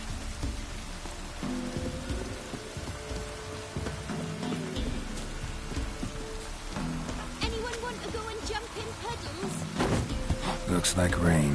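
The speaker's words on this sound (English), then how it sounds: "Looks like rain." Rain falls steadily in the video game The Witcher 3, a constant patter under game music and character voices, growing slightly louder toward the end.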